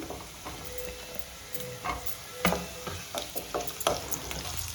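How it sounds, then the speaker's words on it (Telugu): Onions and drumsticks go into a pan for a drumstick curry cooked in milk, a soft sizzle with clattering and scraping as the pieces are stirred, faint overall and fairly close, without speech. "ఉల్లిగడ్డలు మునక్కాయలు వేస్తున్నాను"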